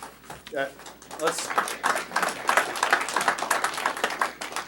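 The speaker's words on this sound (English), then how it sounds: "To keep things moving, let's not have the applause." Applause from the audience at a public listening session on a highway interchange project, scattered clapping mixed with voices and room chatter, fairly close and uneven.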